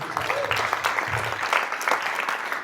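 A banquet audience claps in steady, moderately loud applause that fills the room for a few seconds, with no voices rising above it.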